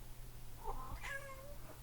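A cat meows twice, quiet and somewhat distant, the second cry longer and drawn out, over a low background hum.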